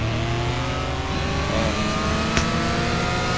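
A race car engine roars loudly and steadily as the car launches off the start line in the mobile racing game CSR 2 Racing, a sustained high revving drone with a brief sharp blip partway through.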